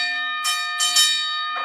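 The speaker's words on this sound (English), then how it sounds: "boxing bell." A boxing bell rings in quick bursts, three or four sharp metallic dings that ring on briefly between strikes, loud and close.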